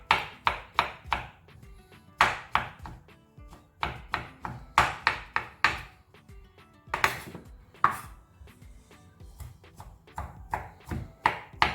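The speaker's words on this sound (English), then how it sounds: "So I'm cutting this finely, just how I cut my onions and chilies." Knife chopping mushrooms finely on a cutting board, a run of sharp, close, rhythmic taps in quick bursts with short pauses between them, heard alone.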